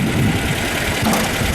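Rear-mounted air-cooled engine of a 1968 Volkswagen Type 3 Fastback running steadily at idle, a continuous broadband hum and rumble heard close by without a break.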